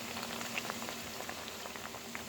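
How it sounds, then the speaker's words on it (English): Steady crackling and bubbling of plantain frying in hot oil, a continuous soft sizzle with small pops scattered throughout. "look at our plantain is properly frying"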